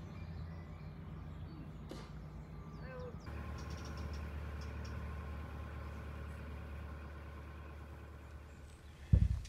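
A canal narrowboat engine running, a steady low throb and hum holding throughout, with a louder knock or bump right at the end.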